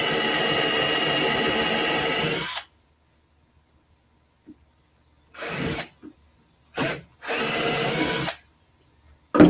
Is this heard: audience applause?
no